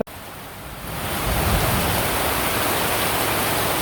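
Heavy windy rain in a Bangladeshi village swells in after a brief click, building within a second into a dense, loud, steady wash of downpour that holds on alone with no talking.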